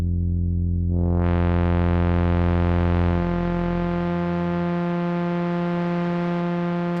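A buzzy analog synthesizer tone sustains with rich harmonics, a gritty white-noise grain creeping into its texture as it holds, from a sequenced East Coast style patch through a 24dB low-pass filter.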